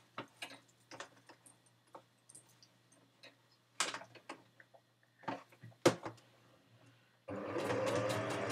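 A sewing machine stitching fabric gives scattered light ticks and clicks at an irregular pace, then settles into a continuous mechanical whir for the final second.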